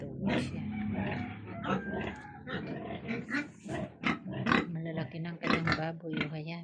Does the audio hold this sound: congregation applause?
no